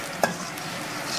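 Chili and coriander powders stir in hot oil, giving a quiet continuous sizzle, with one brief spoon scrape near the start.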